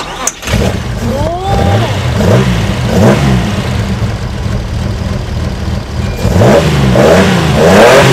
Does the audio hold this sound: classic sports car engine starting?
yes